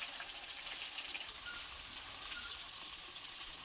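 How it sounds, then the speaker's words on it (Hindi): Water runs steadily from a household tap to fill a container, making a continuous, even rushing sound that stays fairly faint, with no voices. "तो चलो पानी भरथन"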